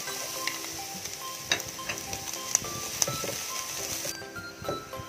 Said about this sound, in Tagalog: And then sautein natin yung onion.